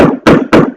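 Three quick, solid tap dance hammer steps, a tap shoe striking a wooden floor in close succession, near and fairly loud.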